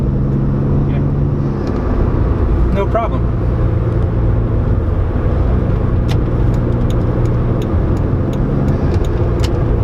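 Toyota Supra twin-turbo automatic under light throttle, its engine a constant loud drone with road and cabin noise while someone talks over it.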